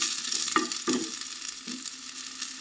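Onions sizzle steadily in a hot pan as tamarind is added for a jackfruit seed chutney, with a few sharp stirring scrapes and clinks breaking through the constant fry.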